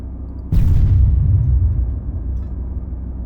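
Armored vehicle struck by a high-explosive round in ArmA 3, exploding catastrophically: one sudden, loud, close blast whose deep rumble rolls on and slowly fades.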